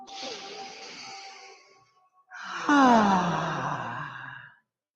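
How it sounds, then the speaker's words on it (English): Deep breaths drawn in during a chair yoga class, a soft airy breath followed after a pause by a louder, longer rush of air with a faint voiced tone. "Inhale through the nose. Let's inhale."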